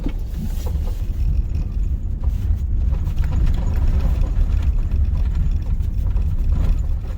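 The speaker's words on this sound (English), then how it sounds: "It's going to take a while for this compressor to do its job, but it'll get there." A portable air compressor runs inside a Canadian camper van, a loud, dense, steady low rumble with rattling texture that holds unbroken throughout.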